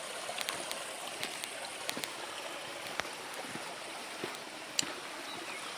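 Water of the Khardu river runs through the fourth intake chamber in the dry season, a faint, even rushing wash dotted with small splashes and ticks.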